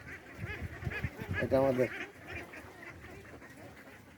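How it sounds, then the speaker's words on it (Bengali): Ducks on a farm quack repeatedly while splashing and playing in water, a cluster of nasal calls rising to a loud burst before fading, with someone talking over them. "আর এই যে হাঁসগুলি জলকেলি করতেছে"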